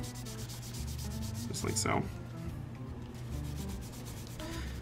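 Orange acrylic paint rubbed off a prop gun from a ZProps Fatebringer kit, making a steady, close, dry scrubbing friction that runs continuously with a brief louder stroke midway, while a voice speaks briefly.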